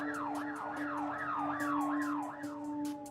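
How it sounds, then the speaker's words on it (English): Loud emergency siren wailing up and down in a steady cycle, with rapid rhythmic tapping bursts pulsing over it and a constant low drone. "they started drowning me out with sirens."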